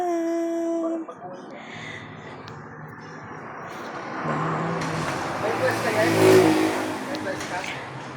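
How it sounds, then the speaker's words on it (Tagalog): Vehicles pass on a road right beside a small roadside building site, engines swelling and fading in a steady roar, with a person talking over the traffic noise. "Nandito po kasi kami sa lalapit sa kalsada, kaya ang iingay ng mga sasakyan"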